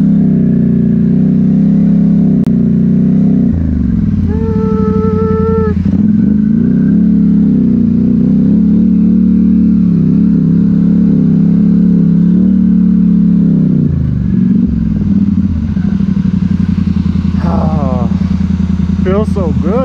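Polaris Sportsman 1000XP ATV with a new engine on a test run, idling and revving in a loud close-up rumble, with brief rises in pitch and a voice speaking over it at times.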